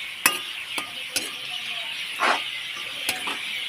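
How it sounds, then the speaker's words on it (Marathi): Chopped tomatoes hit hot oil in a pan and fry with a steady close sizzle, broken by a few sharp clicks and scrapes of a spoon stirring them. "इथे आता मी टमाटर टाकून घेते त्याच्यामध्ये"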